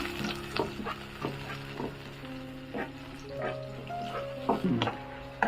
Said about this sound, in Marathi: त्याच्यानंतर टॅमॅटो आणि दोन मिरच्यांची पेस्ट केलेली घालून घ्यायची